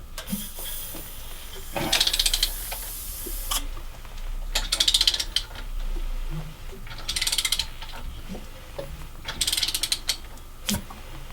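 Bursts of airy hissing from a Chevy engine cylinder as the engine is rotated come and go roughly every few seconds over a mechanical rumble, each lasting about a second or two, fairly close.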